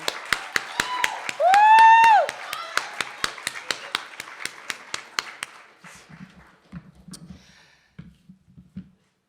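At a jazz awards gala, an audience claps in an even rhythm, about three claps a second, with one voice whooping early on. The clapping then thins and trails off beneath a few low murmurs.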